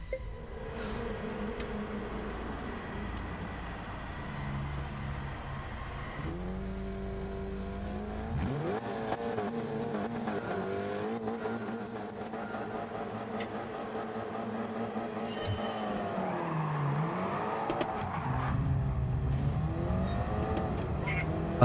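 Race cars in a single-make online racing game, engines droning and revving through gear changes with rising and falling pitch, tyres occasionally skidding, a continuous layered roar of several cars at close range.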